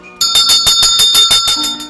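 The hand bell of a garbage-collection tricycle on village lanes rings in a rapid, steady series of about ten loud, close metallic dings, heard alone.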